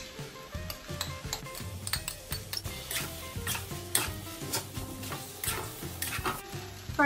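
Leftover steak fried rice with two eggs and meat sizzling and being stirred in a pan, a steady crackling fry with frequent scraping and clinking of a utensil against the pan, close and continuous.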